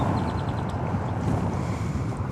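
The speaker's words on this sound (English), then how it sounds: "as I'm buffeted by gusty winds here on this Saturday evening" Gusty wind roars across the microphone at DFW Airport on a Saturday evening, a steady, close, blustery rumble buffeting throughout with no pauses.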